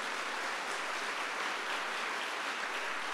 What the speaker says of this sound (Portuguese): se você quer aplaudir, aplauda.